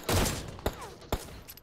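Sharp gunshot bursts from an M4 rifle in PUBG Mobile, a dense volley at the start followed by two separate loud cracks, with no talking.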